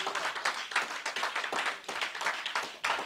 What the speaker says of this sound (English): Somebody clap for Jesus one more time